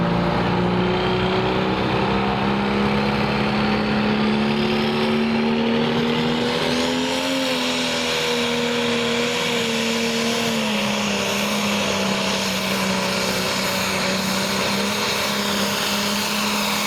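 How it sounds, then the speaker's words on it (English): A pulling truck or tractor engine roars loud and sustained at a truck and tractor pull, its pitch sagging and swelling as the throttle comes off and back on, with no talk over the din. "Throttle off, here's the throttle on."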